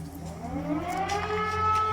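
An air raid alert siren wails in the Poltava region of Ukraine on an August evening, a steady, far-off rising tone that carries across the area.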